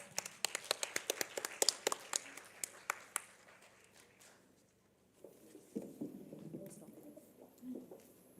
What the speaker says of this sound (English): With, of course, a round of applause.